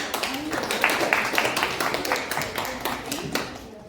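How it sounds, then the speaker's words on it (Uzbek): Audience clapping at a festive lesson in a specialised school in Chinoz district, Uzbekistan, a dense patter of many hands that rises and then tapers over a few seconds, with chatter mixed in. "Olqishlar qo'yamiz."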